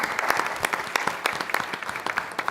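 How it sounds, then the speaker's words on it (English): Audience applause for two guests at an economic justice forum, a dense, steady round of many hands clapping at close range, with no talking over it. "Let's give them a round of applause."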